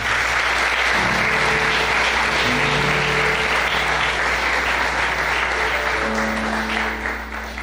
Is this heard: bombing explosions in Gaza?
no